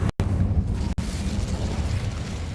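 A fire spell cast in the video game Hogwarts Legacy erupts as a loud, roaring burst of flame that rumbles on steadily, broken by two brief cuts near the start.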